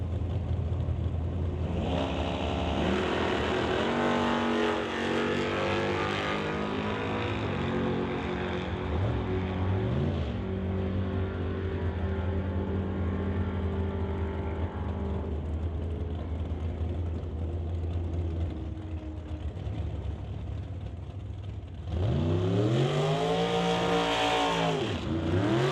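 A drag race at Mission Raceway Park between an S10 pickup and a 1967 Chevrolet Nova, with loud engines roaring and revving hard through several gear changes, fading, then a fresh surge of engine noise rising near the end.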